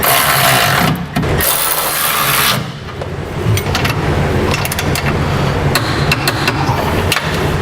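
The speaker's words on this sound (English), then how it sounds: "we need to tighten down and torque the bolts that secure our side plates to our cross rails" Bolts securing a B and W fifth wheel hitch's side plates to its cross rails on a 2008 Chevrolet Silverado being run down with a power tool, loud and close. A steady whirring buzz has short clicking bursts and brief pauses.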